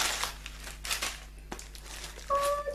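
Paper crinkles and rustles in several short bursts close by while unboxing a Funko Pop delivery, with a brief higher tone near the end.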